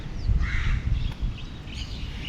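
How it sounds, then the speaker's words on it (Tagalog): Crows caw in a flock of birds flying overhead: a few rasping calls at moderate distance over low rumbling background noise. "Ayun yung mga ibon nagliliparan."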